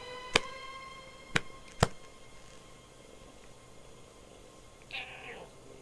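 A domestic cat lying on a lap gives one short, faint meow near the end, after a few sharp isolated clicks, over a quiet indoor background hum.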